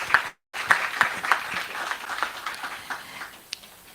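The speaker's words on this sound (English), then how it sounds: "can do a round of applause." A round of applause from a seated audience at a conversation event, moderate and scattered claps filling the room after a short gap, tapering off gradually.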